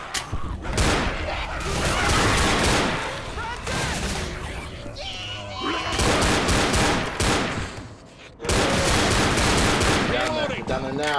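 Dense, chaotic gunfire in Left 4 Dead roars almost without pause through heavy overlapping bursts and booms, with voices talking over the din.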